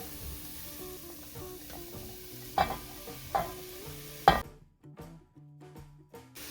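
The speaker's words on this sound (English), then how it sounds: "Just give that a quick stir." A spoon scrapes and stirs through broccoli and pasta soup in a pot, giving a few distinct knocks and scrapes over a steady low simmer before the sound cuts away abruptly.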